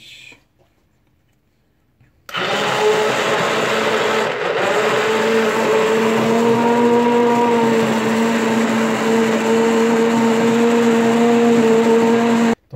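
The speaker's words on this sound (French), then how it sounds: "Donc vous allez prendre votre mixeur et on va le mixer." Kitchen blender pureeing split pea soup, kicking in after a near-silent start and then running as a loud steady whir with a strong tonal drone, unbroken until it cuts off at the end.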